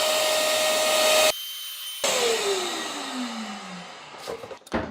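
A Hoover CleanSlate Plus carpet and upholstery spot cleaner runs with a loud whining suction roar, cuts out briefly, then restarts with a falling whine as it winds down, ending in a few bumps and clatters.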